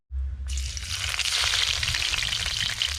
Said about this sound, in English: Just sauteing up the garlic to add some flavor into the oil.